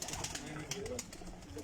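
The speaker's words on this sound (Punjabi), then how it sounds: "ਲਓ ਜੀ ਇਹ ਉਹ ਕਬੂਤਰ ਹੈ ਜੀ" A racing pigeon in a Faisalabad flying-competition loft gives low, soft coos in short repeated phrases, faint and close, alongside brief rustling clicks, with a voice talking in the background.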